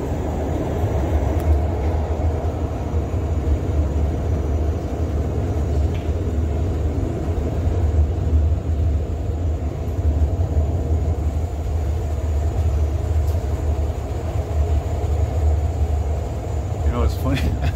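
A ride inside a Montreal REM light rail train gives a steady low rumble and hum of the moving car, continuous and moderately loud, with occasional faint squeaks.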